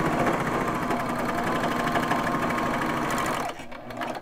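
A Baby Lock Vibrant serger sews a cuff with a loud, fast, steady motor buzz up close. It cuts out near the end, and a short, quieter whir follows.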